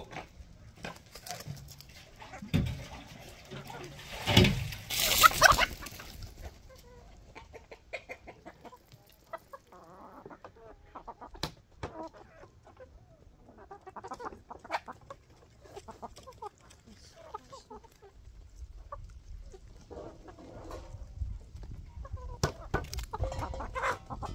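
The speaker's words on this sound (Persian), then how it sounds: "خروس بی محل اینجا چی کار میکنی؟" Faint clucking from a rooster at a nomadic camp, in scattered short calls with a louder flurry early on and quiet gaps between them.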